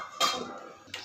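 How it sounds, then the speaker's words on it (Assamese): A lid is set on a cooking pot of fish simmering with taro: a sharp metallic clink opens, a lingering ring fades, and a second lighter clink comes near the end, with no talking. "ঢাকনি মাৰি কিছু সময় আৰু"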